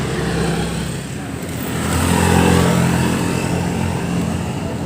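Motorcycles and traffic move along a road at night near the Jatiseeng roundabout in Cirebon, a continuous engine drone that swells as one passes close around the middle, with no talking.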